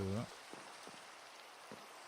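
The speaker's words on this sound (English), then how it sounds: "still raining around here" Steady rain falling in the Minecraft video game, a faint, even hiss with a few soft drop taps, coming right after a brief bit of talk at the start.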